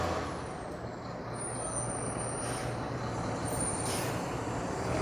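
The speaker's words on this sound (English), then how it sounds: "Yep, we have a fire truck." Air brakes hiss from a fire truck passing on a quiet city street after midnight, high hissing bursts over a low steady engine rumble and faint road noise at moderate distance.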